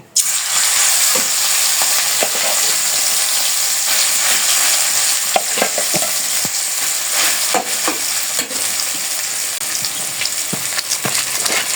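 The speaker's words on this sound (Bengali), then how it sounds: "শাক তেলটা গরম হয়ে গেছে, এখন শাকটা বাগার দিয়ে নিব।" Freshly picked leafy greens dropped into hot oil, a loud, dense, continuous frying sizzle with occasional stirring clatter, close up and steady throughout.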